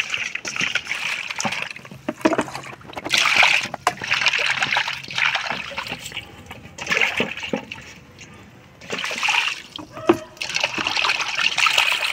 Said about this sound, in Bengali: এবার মাছগুলো পরিষ্কার করে ধুয়ে নিব